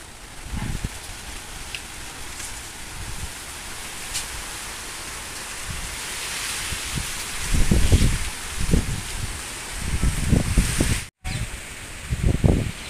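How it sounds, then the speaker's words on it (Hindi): Strong wind rushes through leaves over an open farm field with seedling beds, a continuous loud broadband roar with gusty swells and rustling bursts, no talk. "हवा चल रही है जी बहुत तेज"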